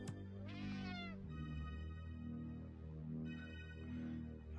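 A cat meows repeatedly with rising, drawn-out cries over a steady low background hum, fairly close and alone without talk.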